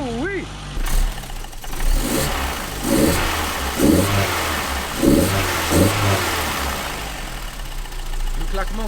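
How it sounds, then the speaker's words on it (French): Car engine fitted with Siemens fuel injectors idling and briefly revving, with a rhythmic clattering tick over the running engine; people talk and exclaim over it. "Le claquement que t'entends, c'est les injecteurs. Les Siemens, ils font grave du bruit."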